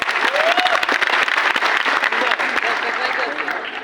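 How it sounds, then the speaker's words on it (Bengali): Audience clapping loudly and steadily at a live event, a dense burst of applause with cheering voices mixed in throughout. "তাদের জন্য একটু জোরে হাততালি।"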